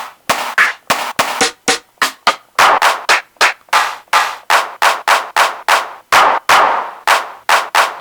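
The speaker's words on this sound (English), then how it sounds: "Actually, I grab that clap." Clap sample triggered on a Korg ESX drum machine, a dry, punchy snap repeated about two dozen times in an uneven rhythm, loud and close with no other sound.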